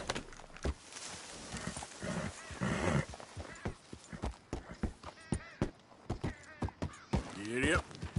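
Horse hooves clip-clopping in a video game, a steady trotting rhythm of sharp knocks with bird caws and game sounds mixed in, while a person speaks over it.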